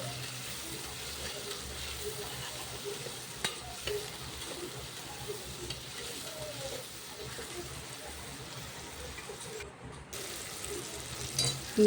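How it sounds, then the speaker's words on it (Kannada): Chopped tomato fries in a pan while being stirred for a soybean pulao, a steady close sizzle with occasional scraping and soft clicks, and a voice speaking over it. "ಈಗ ಕಟ್ ಮಾಡಿಕೊಂಡಿರುವ ಟೊಮೆಟೊ, ಅದು ಚೆನ್ನಾಗಿ ಫ್ರೈ ಆಗಲಿ."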